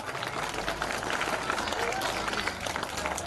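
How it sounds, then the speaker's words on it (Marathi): An audience claps loudly to welcome a woman teacher at a gathering, a dense, steady wash of applause from many hands, with voices mixed in. "जोरदार त्यांनी टाळ्यांनी त्यांचं स्वागत करावं"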